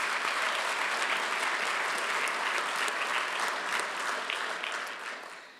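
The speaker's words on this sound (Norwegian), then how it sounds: "Det fortjener en applaus" A hall audience at a study association meeting applauds, a sustained even roar of clapping with scattered sharper claps, tapering off gradually toward the end.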